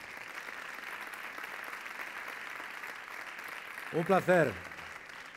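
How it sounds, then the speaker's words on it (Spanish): Moderate applause fills a sports gala hall as a guest comes up to present an award, steady clapping before someone briefly speaks near the end. "Fuerte aplauso para él"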